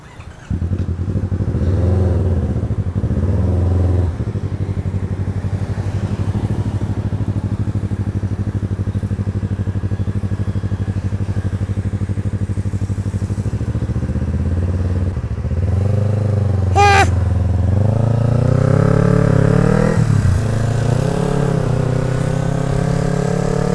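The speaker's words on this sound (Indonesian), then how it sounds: "Oke, kita coba motor ini ya." A Yamaha MT-25 with a loud Avionic full-system aftermarket exhaust idles with a deep burble, then revs hard several times, rising and falling sharply, close by.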